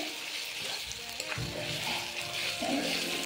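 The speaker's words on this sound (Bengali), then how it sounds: "আমি এখন ভেজে রাখা আলু দিয়ে দেব" Fried potatoes tumble into a pan of sizzling cooked-down spice paste for aloo dum, a steady close frying sizzle with a couple of stirring scrapes, no talking.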